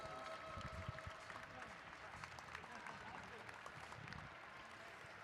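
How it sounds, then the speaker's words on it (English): Crowd clapping for new state champions at a Saturday night racing event, a faint, distant patter of applause under an announcer's amplified voice and arena noise. "Round of applause for new state champions."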